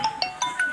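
A phone ringtone chiming in a quick run of four bright electronic tones, moderately faint, with no talking over it.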